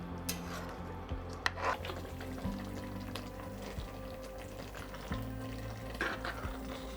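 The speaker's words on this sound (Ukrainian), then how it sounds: "я його помішую раз на 3-4 хвилини, щоб він не чіплявся до дна каструлі" Spoon scraping and stirring aromatic pilaf rice in a pot to keep it from sticking to the bottom, with soft intermittent scrapes and a gentle sizzle over a steady low kitchen hum.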